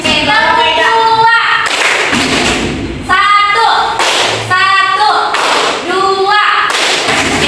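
Students in an Islamic junior high school classroom clap in a two-one-two pattern, loud sharp hand claps in repeated groups mixed with chanting voices.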